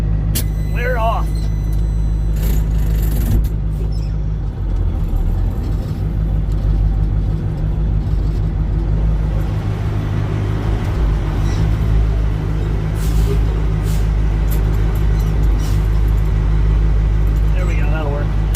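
A medium-duty truck with a CAT 3208T turbo diesel pulls off and drives toward town, its engine a loud, steady low rumble close by throughout, swelling as it accelerates.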